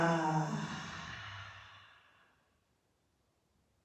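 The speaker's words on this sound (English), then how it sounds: "Inhaling 3 times in through the nose and out through the mouth." A long, audible exhale through the mouth during a gentle vinyasa yoga session, loud and breathy at first and then slowly fading into silence.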